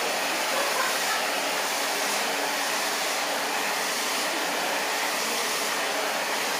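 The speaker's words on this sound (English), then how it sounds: "You leave the blow dryer facing towards her scalp." A blow dryer drying hair into a brush, a steady loud airy whoosh running unbroken throughout.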